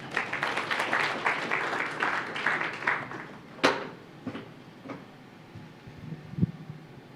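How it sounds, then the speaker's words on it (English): A crowd applauds the chairman at the official launch of the E-WRS Central Registry Platform; a dense burst of clapping fades out after a few seconds, leaving a few scattered claps and small knocks in a quieter room. "Round of applause to our chairman."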